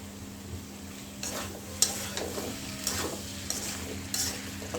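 Taro goes into a sizzling pan of spice paste, bound for a dish with shing fish. A gentle continuous fry sits under intermittent utensil scrapes and light metallic taps, heard up close with no speech.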